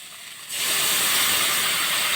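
Spice paste for a katla fish curry hits the hot oil and erupts into a loud, close sizzle after a half-second of quiet, the frying hiss then holding steady and bright.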